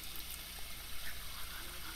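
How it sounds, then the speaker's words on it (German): Steady running water pouring and gushing from dishwashing in The Sims 4, like a tap filling a sink, continuous and fairly close with no voices. "spült auch hier gleich das Geschirr"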